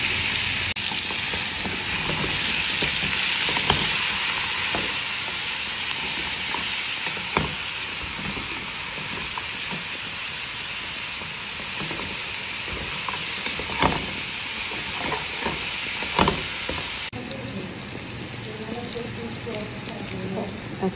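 Onion, pepper and garlic sizzle loudly in a hot pan, with a continuous frying hiss and periodic scraping clicks of stirring; someone talks over it, and near the end the sizzle drops slightly.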